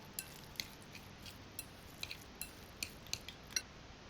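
Utensil stirring a starch mixture in a bowl for a Chinese mushroom noodle sauce, heard as a quiet series of light clinks and taps, about a dozen scattered across the stretch, alone with no talk.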